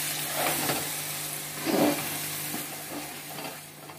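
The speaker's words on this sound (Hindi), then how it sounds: "इसको मिलाते हुए अच्छे से फ्राई करें।" Dhoka lentil cakes frying in oil while stirred, a low steady sizzle with a brief louder scrape midway and faint spoon movements, no speech.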